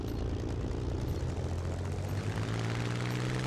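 Typhoon fighter aircraft engine in the video game War Thunder, a steady, loud, continuous drone with a low tonal hum that rises slightly in pitch, heard alone with no talking.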